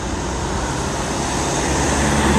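A bus passes in road traffic with a steady, loud roar of engines and tyres that swells slightly as it comes closer.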